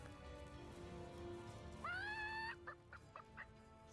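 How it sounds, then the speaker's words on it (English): A chicken in Divinity: Original Sin clucks once with a short, rising squawk that sits over a quiet, rain-like ambient background. "I heard a chicken."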